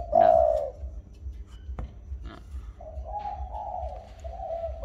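A breeding pair of pigeons sold as cooing stock gives a loud, close coo at the start, followed by a longer rolling coo in the second half over a low background hum.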